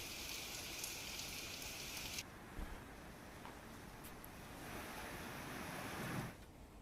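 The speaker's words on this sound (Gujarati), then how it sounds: "વહેલી સવારથી તોફાની વરસાદ શરૂ થયો" Stormy unseasonal rain in Valsad, Gujarat, falling steadily outdoors, a broad hiss of downpour with gusty wind, heavier at the start and rising again near the end, no voices.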